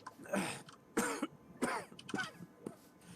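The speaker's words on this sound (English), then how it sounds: "they can hear all of us just coughing" Several harsh coughs from a few people in quick succession, close by, with short gaps between bursts.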